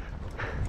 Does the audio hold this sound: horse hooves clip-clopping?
yes